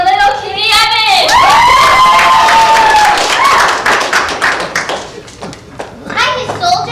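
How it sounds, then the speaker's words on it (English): Audience clapping and cheering for a young child tap dancer at a homeschool theater show, a loud burst of applause with excited shouts that fades toward the end as voices take over. "Let's have a big round of applause for little Kitty Evans!"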